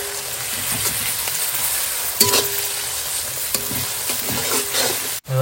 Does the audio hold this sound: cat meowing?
no